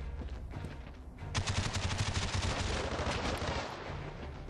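A light machine gun fires in Call of Duty Black Ops, a rapid, steady burst of shots that starts after about a second and runs for roughly two seconds before fading, fairly faint overall.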